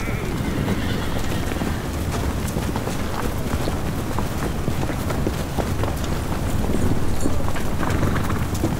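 Horse hooves clip-clop at a brisk, uneven pace in a film scene, close and fairly loud over a constant rough outdoor wind noise, with hints of snorting and whinnying.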